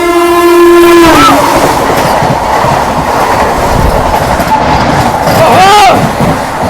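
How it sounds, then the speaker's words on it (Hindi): The New Delhi–Varanasi Vande Bharat Express runs through Firozabad without stopping, with a loud nearby horn blast and then a second horn, over steady heavy rolling rail rumble. "न्यू दिल्ली वाराणसी वंदे भारत एक्सप्रेस की, और वो स्किप कर रही है फिरोजाबाद"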